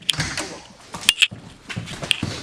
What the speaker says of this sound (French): Donc on ouvre la porte